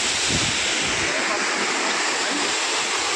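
Savatsada waterfall near Chiplun pours steadily, its heavy, even rush filling the whole stretch at close range, with light wind rumble on the microphone and no clear talk.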